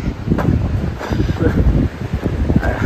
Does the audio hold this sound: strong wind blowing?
yes